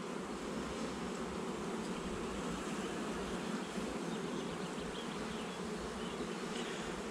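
Honeybees buzz at an open hive during an inspection, a dense, steady hum of many insects close by, soft but constant with no speech.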